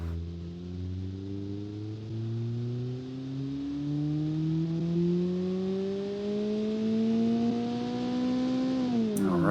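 A Kiev Motors 09 car driving in BeamNG, its engine droning steadily with a rising pitch as it accelerates, loud and continuous, easing off abruptly near the end.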